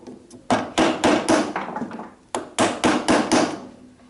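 Mallet strikes on a chisel chopping out mortise waste in timber, a woodworking joint: a couple of light taps, then two sharp bursts of several close, loud hits each, wooden and ringing, with no talk.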